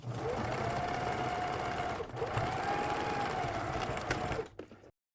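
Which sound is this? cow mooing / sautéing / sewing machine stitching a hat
sewing machine stitching a hat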